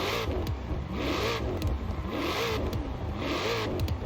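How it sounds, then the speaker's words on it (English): Ford Mustang V8 revving in Forza Horizon 4, a raspy engine climbing and falling in four repeated rev cycles, loud and close with no talking. "The Mustang definitely has a much more raspier sound compared to the other two."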